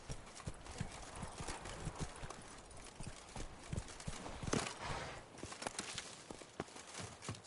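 A horse gallops in The Witcher 3 video game, continuous quick hoof clops with steady rhythm, moderately close, over a busy background, with no talking.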